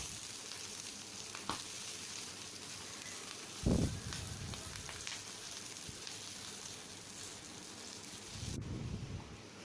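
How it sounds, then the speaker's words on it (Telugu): Dried red chillies and green chillies fry in oil in a pan, giving a soft, steady sizzle with occasional louder bursts of spitting and stirring, close by and fairly quiet. "ఎండుమిరపకాయలు, పచ్చిమిరపకాయలు కూడా వేసి ఫ్రై చేస్తున్నాను"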